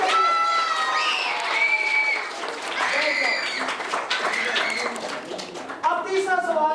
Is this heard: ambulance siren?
no